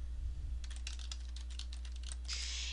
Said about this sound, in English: go ahead and type with your keyboard onto the composition